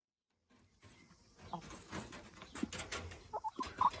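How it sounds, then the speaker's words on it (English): Hens clucking in an old, worn hen house on a small farm, starting after a brief silence, with a few sharp, close clucks rising toward the end over a soft background bustle. "Let's check out some chickens."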